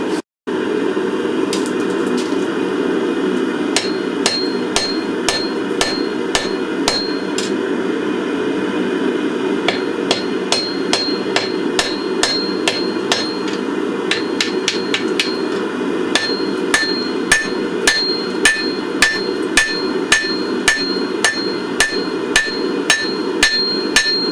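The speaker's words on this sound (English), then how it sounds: "just forging out this face, just working my way back slow" A hammer forging out the face of a wrought iron forge weld, a long run of sharp ringing metallic blows, close and loud, spaced at an uneven working pace over a steady background hum.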